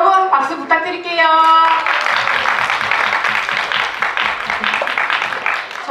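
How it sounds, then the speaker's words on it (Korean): Applause from the audience at a Korean film stage greeting starts right after a brief spoken line and continues as loud, steady clapping for several seconds. "여러분 박수 부탁드릴게요."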